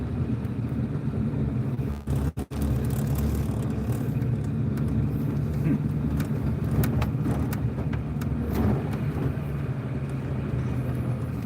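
A small car drives through city streets, heard from inside as a steady engine and road rumble that continues throughout, with a brief dip in sound near the start.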